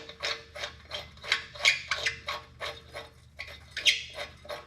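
A wrench works loose bolts on an old Fordson tractor during restoration, a quiet, close series of rapid ratcheting clicks in short rhythmic bursts, with no talking.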